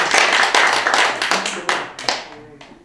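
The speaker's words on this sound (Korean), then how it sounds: "우리 박수 한번 해서" An audience at a party leader's Q&A meeting claps briefly, with a dense burst of close hand claps that thins out and fades within a few seconds, while a voice carries on underneath.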